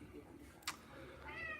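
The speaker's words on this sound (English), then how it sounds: "That was my cat." A house cat lets out a brief meow near the end, faint and partly buried under ongoing talk and background noise.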